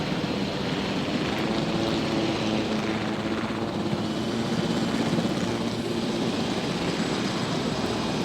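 A helicopter flies in a video game with dinosaurs, its rotor and engine drone steady and loud throughout, broad and unbroken, with no talking over it.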